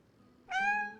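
A single video game cat meow, close and clear, rising then fading over about half a second after a quiet start.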